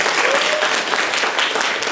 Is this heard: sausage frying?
no